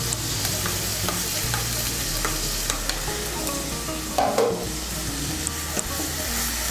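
Green chilli paste stirred into hot oil with a splash of water for cauliflower dalna, a steady close sizzle broken by repeated scraping strokes of the spoon across the pan, with no talking.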